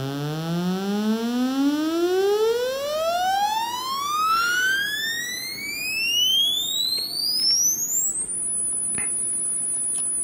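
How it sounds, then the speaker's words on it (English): A DIY synthesizer's voltage-controlled oscillator sweeps steadily upward through its full frequency range, from a low buzz to a thin high whine that levels off and holds near the top, loud and alone. "if I go through the full frequency range,"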